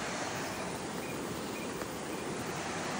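Fast-flowing water of a swollen village stream in the Konkan, running strongly under a tunnel, makes a steady, dense rushing roar that stays even throughout with no voices.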